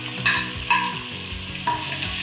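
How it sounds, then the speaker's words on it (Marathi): Mustard seeds crackle and pop in hot oil in a pan, with cumin about to be added. There is a steady close sizzle with sharper pops every second or so and faint tonal sound in the background. "आता मोहरी छान तडतडली की यामध्ये घालायचं आहे जिरं।"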